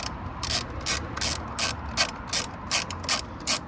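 A ratchet driving a 5mm Allen key tightens the airbox on a VW Caddy, giving about eight crisp, evenly spaced bursts of clicking, close and fairly loud with no talking.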